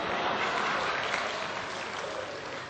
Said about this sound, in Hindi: सब आरती पर तालियां बजाना